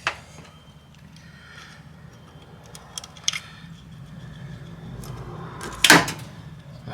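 Small pliers working a spring clip off a crankcase breather pipe on a Honda Jazz (Fit) GD engine: scattered light metallic clicks and taps, with one sharper snap near the end, close by over a low hum.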